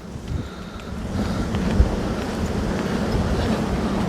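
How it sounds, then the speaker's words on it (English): Strong wind on an exposed high moorland walk near Hawkridge, Somerset, roars steadily as a loud broadband rumble buffeting the microphone, with no talking. "Oh, very windy as well."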